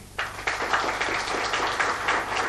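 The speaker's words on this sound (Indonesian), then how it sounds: "Mari kita sambut dan berikan tepuk tangan." Guests at a wedding applaud the newly married couple, a burst of dense clapping that starts abruptly and holds steady and fairly loud for a couple of seconds.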